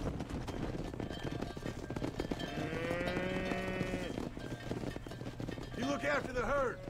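Cattle lowing in the western video game Red Dead Redemption, a long drawn-out moo in the middle followed by a couple of shorter calls near the end, layered over steady game ambience with people talking throughout.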